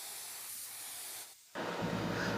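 A spray gun dusts a light coat of sealer during automotive paint repair, producing a steady close hiss that stops briefly and then resumes slightly louder.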